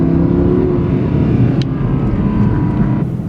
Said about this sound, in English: this is valves closed. Super quiet. Downshift sound retarded. It's basically just all engine noise.